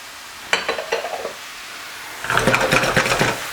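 Beef searing with mushrooms and onions in a pan for stroganoff, stirred with a few clatters and then a brief louder burst of sizzling and scraping, close and alone.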